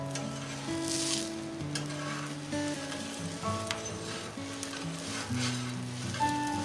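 A layered lachha paratha fries on a pan with a soft, continuous sizzle and light crackle, with faint stirring or pressing sounds and no talk.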